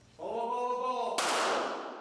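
A Grand Chute police restraint device deploys at a training site: a harmonic whine rises briefly, then a sharp loud crack bursts out and rings down into a fading hiss as it launches its cord.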